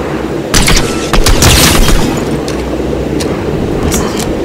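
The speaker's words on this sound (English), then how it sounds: "Ah, they got a cannon." Booming blasts from a cannon in the video game Fortnite, with a couple of heavy reports close together early on and sharper cracks later, loud over constant game background.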